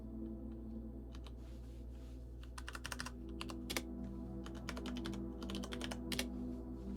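Quiet, close typing on a computer keyboard: bursts of rapid key clicks, with pauses between them, over a steady low hum.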